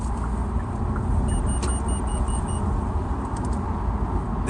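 A 2020 Kia Soul Booster 1.6 T-GDi accelerates past 80 km/h, heard from inside as a steady low engine and road drone with faint high beeps, no talk.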